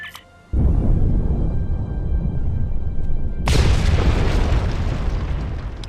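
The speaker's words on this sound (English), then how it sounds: "The bombs are primed to blow." Bombs detonate in the video game Star Trek Online: a sudden deep boom erupts after a brief quiet moment, followed by a rumbling roar and a second sharp explosion about three seconds later.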